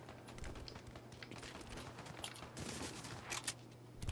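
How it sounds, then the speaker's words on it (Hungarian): Gunfire rattles in a Fortnite shootout, with faint, distant bursts and scattered rapid shots crackling under background noise. "Ó, elég nagy lövöldözés megy."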